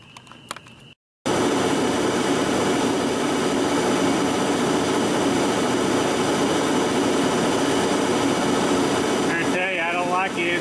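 Big Monarch lathe hard turning metal: after a brief quiet start, a loud, steady broadband roar and whine of machining runs on without letup, close by, with a faint voice near the end.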